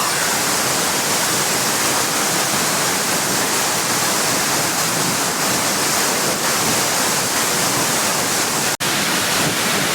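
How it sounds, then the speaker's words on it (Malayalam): Achankallu waterfall rushes in a dense, unbroken roar, loud and close throughout, with no talking and only one brief click near the end. "ഞാനിപ്പോൾ വെള്ളച്ചാട്ടത്തിന് അടുത്ത് വന്നിട്ടുണ്ട്"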